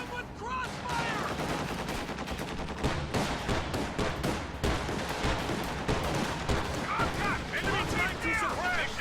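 Sustained gunfire in a WWII strategy game, with rapid machine-gun bursts and scattered rifle shots crackling throughout, loud and close, while soldiers shout orders over the battle.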